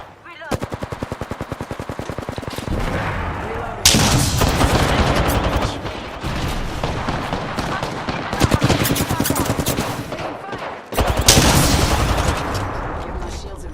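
Rapid automatic gunfire from a video game shooter, loud and dense in sustained bursts broken by short pauses, with heavy percussive shots dominating throughout.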